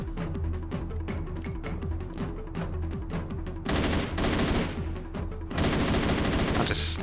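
Rapid, steady automatic gunfire in the action driving game Driv3r, set in Istanbul, cracking loud and close, then rising into denser, heavier volleys in the last few seconds.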